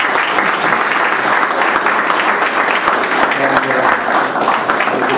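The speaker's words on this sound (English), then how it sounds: "I would suggest that we should give a good round of applause" A lecture audience gives a round of applause, loud continuous clapping filling the room for about five seconds, with faint murmuring beneath.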